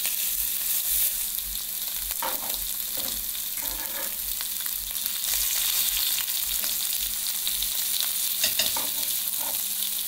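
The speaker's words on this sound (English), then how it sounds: "we are going to sear all the sides with the meat" Beef short ribs sear in a hot pan with a steady, close sizzle, broken by occasional clatters as the meat is turned to brown each side; no one speaks.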